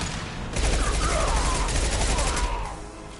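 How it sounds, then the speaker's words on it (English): An impact shot fired in Mass Effect 2, a loud, dense, sustained burst of combat noise lasting about two seconds, with a faint voice in the mix. "Firing an impact shot."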